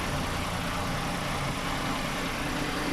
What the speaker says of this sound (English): that's the engine idle with AC on.